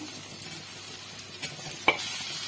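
Steady sizzling of onions frying in a pan, with a sharp clatter as small-cut potato pieces drop in near the end; no voices.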